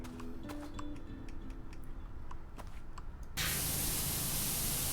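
A pressure washer spraying water in the video game PowerWash Simulator: a steady hiss with ticking clicks, then a sudden louder, broader rush of spray that holds steady to the end.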